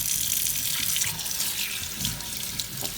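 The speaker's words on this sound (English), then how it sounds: "So now I'll give them a wash under some warm water." Resist-dyed fabric, patterned with glue and Inktense blocks, is rinsed by hand under a running tap of warm water, giving a steady, close splashing rush that fills the whole stretch without a break.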